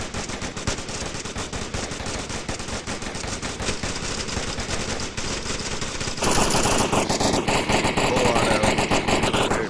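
Sustained automatic gunfire from a VR shooter game, Onward, during a competitive league match, dense and continuous with bursts overlapping, growing louder and harsher in the last few seconds.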